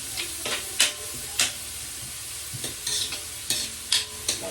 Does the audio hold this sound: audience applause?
no